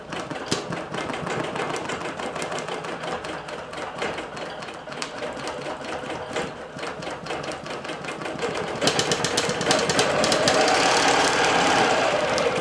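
A computerized sewing machine embroiders through a thick flannel quilt with a loud, rapid mechanical rattle that runs on steadily and grows harsher and faster near the end.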